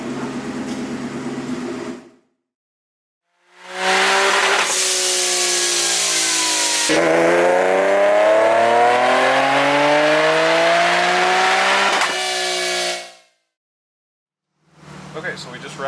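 A Stillen supercharged Nissan 370Z on a dyno during a pump gas tune roars through a long wide-open pull, engine pitch climbing steadily, then cutting off abruptly into silence.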